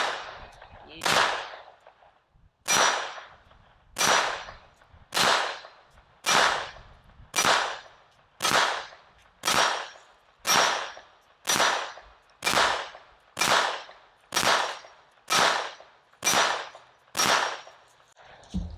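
Sig Sauer P322 .22LR pistol fired at a steel target, about fifteen sharp cracks in a steady, evenly spaced string, each shot ringing briefly off the steel, close and distinct with little else heard.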